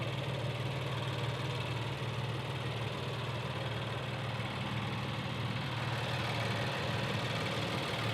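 Infiniti QX80 with a 3.5 liter V6 twin turbo engine idling, a steady close broadband hum with a low drone and no change in pitch throughout.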